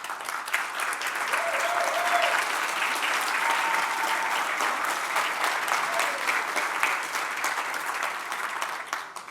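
An audience at an industry association event claps steadily, building quickly and then holding a dense, moderately loud patter of applause that tapers slightly near the end.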